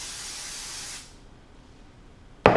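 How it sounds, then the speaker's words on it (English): Cooking spray with flour in it hisses onto loaf pans in one steady near spray of about a second, then quiet, then another burst starts at the end. "I'm going to spray each loaf pan down."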